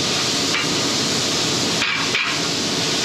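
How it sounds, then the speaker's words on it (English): A claw hammer pries and bends a 1974 Honda CB350F motorcycle fender bracket, giving a continuous metallic scraping grind with two brief sharp knocks near the end. "Grabbed your trusty old claw hammer, pinched it in here in between the fender and the bracket like so."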